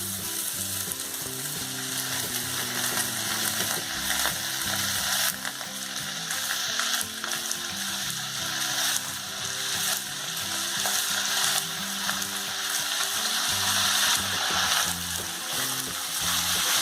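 Chopped onion, nendran plantain and carrot fry in a pan with a continuous loud sizzle and crackle, broken by occasional scraping, and no one speaks.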